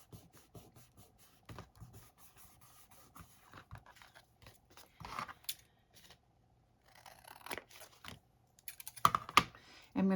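Scissors snip along the edge of a recycled file folder while Christmas tags are being made, giving a close, quiet series of short crisp cuts with small paper rustles between them.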